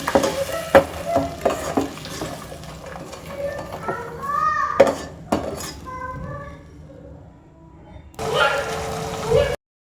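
Tomatoes frying in a little oil for a village-style tomato rasam, with a spoon stirring and scraping the pan and utensils clinking, a voice and kitchen chatter in the background, ending in a louder burst of sizzling.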